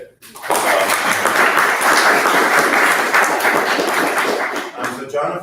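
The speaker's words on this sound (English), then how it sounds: "so maybe a round of applause today." An audience at a conversation event breaks into sustained applause, a dense, loud wash of clapping that starts abruptly and holds steady for several seconds before tapering slightly at the end.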